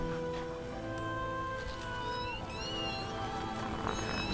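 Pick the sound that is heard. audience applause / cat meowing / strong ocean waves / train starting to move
cat meowing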